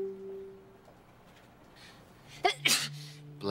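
A single sharp sneeze from a person in a quiet room, loud and near, following a stretch of faint hum and a soft tone.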